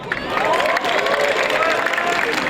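Students and spectators at a university debate competition clap loudly, with scattered cheers rising over the crowd's applause and a voice speaking underneath.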